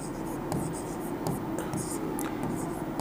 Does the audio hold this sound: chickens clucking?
no